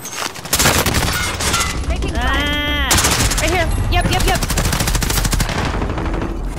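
Rapid automatic gunfire and bursts of shots ring out in Call of Duty: Modern Warfare, loud and continuous, with a voice shouting over the firefight.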